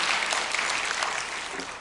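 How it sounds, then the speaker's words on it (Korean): Church congregation clapping together during a worship service, a dense, sustained burst of hands that stays loud and even before tapering slightly at the close. "우리 다시 한번 박수로 격려하십시다."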